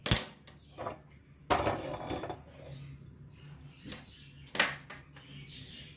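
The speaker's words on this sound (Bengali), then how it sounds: "এবার আমি একটা কড়াই বসিয়ে দিচ্ছি।" Metal clanks and scrapes as a wok (kadai) is set onto the stove for making chitoi pitha, several sharp knocks and rattles spread across a quiet kitchen; no talking.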